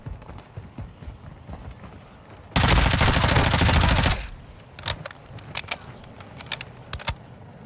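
Gunfire in Warzone 2 DMZ gameplay, a dense sustained burst of automatic fire lasting over a second, followed by scattered sharp single shots and cracks, loud against quieter background noise.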